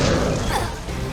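A muffled, heavy blast with a thudding crash from an explosive cartridge skill in the game Dragon's Dogma, loud and close over a dense background of game sound.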